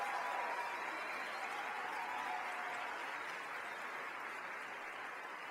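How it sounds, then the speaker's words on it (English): An audience applauds at a local heroes awards event, a steady broad patter of many hands heard at moderate distance and fairly soft, fading slightly toward the end with no speech over it. "Let's give Angela and one community another big round of applause"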